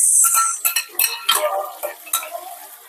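Garlic, onion and tomato get stirred in a pan, a utensil clinking and scraping against the metal in quick irregular strokes over a faint sizzle, close and fairly loud, with no voices.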